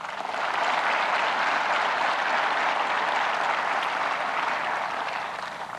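The audience at a Korean National Police Day anniversary ceremony applauds the police with a sustained, dense burst of clapping that swells quickly, holds steady and loud for several seconds, then eases slightly.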